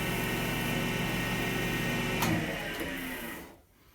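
Wooden egg spinning on a lathe while wax finish is buffed off, a steady whirring hum with a brief scuff near the middle before the motor winds down.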